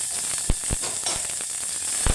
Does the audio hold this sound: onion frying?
yes